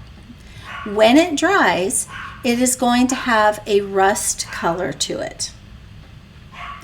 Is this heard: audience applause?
no